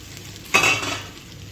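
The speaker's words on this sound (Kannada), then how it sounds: "ಮೂರು ಮೊಟ್ಟೆ ತೆಗೆದಿಟ್ಕೊಂಡಿದ್ದೀನಿ ಮೊಟ್ಟೆನ ಇಲ್ಲಿ ಹಾಕೋಣ ಈಗ" Eggs for egg bhurji hit a hot pan with a sudden loud sizzle that swells and then settles into a softer frying hiss, alone and close.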